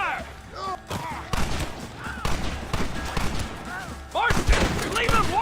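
Rapid gunshots ring out in a battle in Red Dead Redemption, bursts of firing and heavy thumps mixed with shouting soldiers and music.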